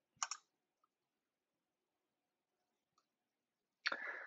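A computer mouse clicks to submit a web form, giving a couple of short, sharp clicks at the start and end of a quiet stretch, with a few faint ticks in between.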